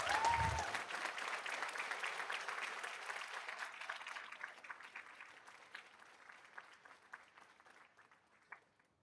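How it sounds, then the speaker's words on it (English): A school board meeting audience claps for elementary students, a full round that starts strong and gradually thins and fades to scattered claps, with a brief voice at the start. "Can I get a big round of applause for our students?"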